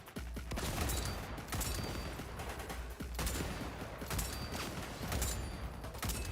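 Rapid bursts of gunfire from Cyberpunk crackle loudly and continuously, with repeated sharp shots layered over a heavy, dense combat din.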